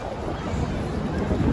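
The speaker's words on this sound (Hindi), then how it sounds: "इतनी तेज़ हवा चल रही है ना आज यहाँ पर" Strong gusty wind in Makkah buffets the microphone in a steady low roar, rising slightly toward the end, with no clear voices.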